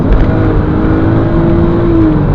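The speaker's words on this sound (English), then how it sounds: "Now coming up to 60 miles an hour, drop it into 4th" A 2012 BMW 330i SE coupe with a six-speed manual pulls steadily in fourth gear from about 60 mph, its engine droning with a rising tone under road and cabin noise.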